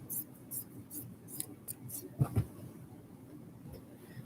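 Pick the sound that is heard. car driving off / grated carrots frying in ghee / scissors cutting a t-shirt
scissors cutting a t-shirt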